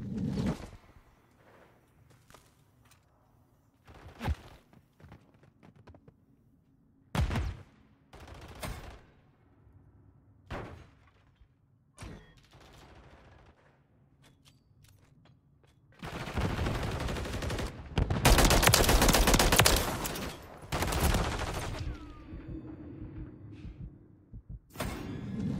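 Bursts of gunfire ring out in a Modern Warfare 3 ranked match, scattered sharp single shots early, then a dense loud stretch of rapid firing before tapering into a few more shots.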